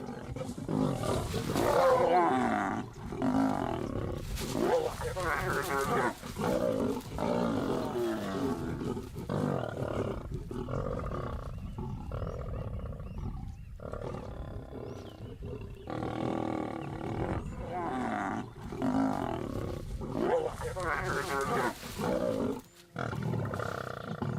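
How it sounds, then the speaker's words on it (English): Lions in the wild at Timbavati, a lioness and males feeding on a kill, growling and roaring in repeated deep bursts close by, continuous across the stretch with brief pauses. "Undeterred, the lioness carries on feeding."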